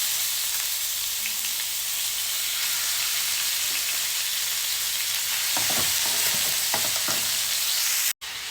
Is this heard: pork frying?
yes